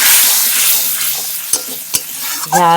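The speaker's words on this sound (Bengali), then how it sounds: "এবারে ভালো করে মশলাটা কষতে দেবো" Spiced masala paste sautéing in hot oil for a fish dish, a loud close sizzle with a few sharp spoon scrapes and knocks against the pan, ending in a brief hiss of steam.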